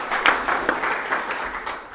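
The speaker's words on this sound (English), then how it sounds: "So if y'all give her a round of applause" Audience at a touchdown club gathering giving a brief round of applause, a dense patter of clapping that fades slightly at the end.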